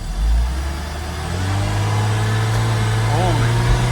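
A Porsche 986 engine changes pitch as it downshifts on the road, with a steady low drone stepping up after a shift, heard close inside the car while people talk.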